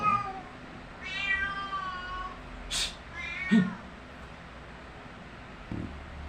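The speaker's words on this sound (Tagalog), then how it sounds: "Ingay talaga nitong alagang pusa." A pet cat meows noisily in several drawn-out, wavering calls, close by, with quiet pauses and faint rustling between them.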